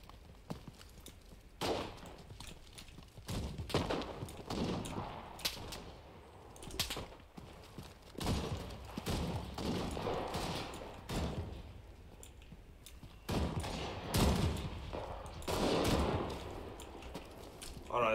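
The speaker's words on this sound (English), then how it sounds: "They're shooting us from there." Gunfire in the World War II shooter Enlisted: sharp broadband shots scattered across a battlefield, some in quick clusters and others isolated, with a steady hum of ambient combat noise underneath.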